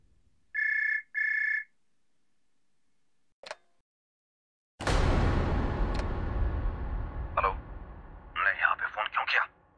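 Two bursts of a bright electronic landline telephone ring near the start, then a loud rush of noise, clicks and people talking.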